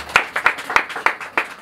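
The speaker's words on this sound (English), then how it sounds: "You clap for them." A handful of people clap for children at a birthday gathering, about seven distinct, loosely timed claps close by, fairly loud and uneven in rhythm.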